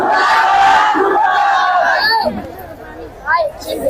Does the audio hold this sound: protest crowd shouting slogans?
yes